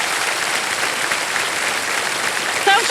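A studio audience on a televised quiz show claps in a dense, steady burst of applause for the full few seconds, loud and close, with a brief voice near the end.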